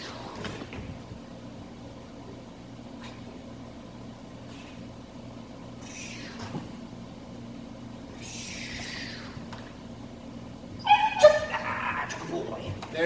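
A Presa Canario puppy in protection training gives a couple of short, sharp barks near the end, after soft whimpers and yips over a steady low background hum.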